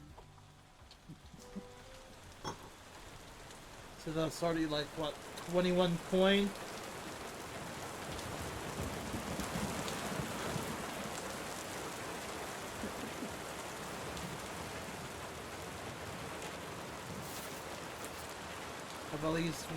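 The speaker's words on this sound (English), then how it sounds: "Seems we're in for a rainy night." Steady rain pours down in the video game Chroniclers Tavern, a constant soft wash of falling water for the whole stretch, with someone talking briefly over it and a few short game chimes.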